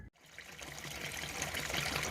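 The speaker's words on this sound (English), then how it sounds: "just draining all the water" Water drains from household plumbing during a seal replacement job in South Africa, a steady trickling, splashing stream that builds slightly and runs continuously throughout, close by and fairly quiet.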